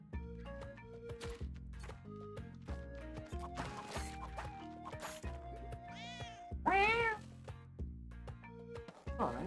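A cat in the video game Spelunky 2 lets out a couple of clear, drawn-out meows over busy background game music.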